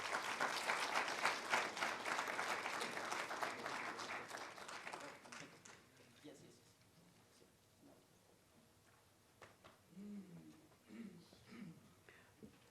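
Audience applause at a Namibian solidarity event for Cuba, dense and loud for about six seconds, then fading into scattered claps and murmuring voices.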